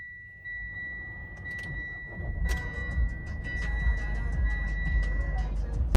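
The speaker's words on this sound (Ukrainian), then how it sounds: "ви відчули, як легко і гарно завівся автомобіль" A diesel engine in a Mitsubishi Outlander 2.2 cranks and catches, settling into a steady low idle with a faint ticking and a high tone running over it.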